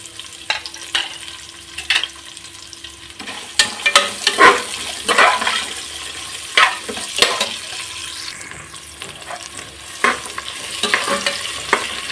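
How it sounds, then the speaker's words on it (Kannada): Sliced onions frying in oil for vegetable palav, a steady sizzle broken by repeated scraping stirs of a spoon in the pan, close and clear with no voices. "ಈರುಳ್ಳಿ ಎಲ್ಲ ಚೆನ್ನಾಗಿ ಕೆಂಪು ಫ್ರೈ ಆಗಬೇಕು."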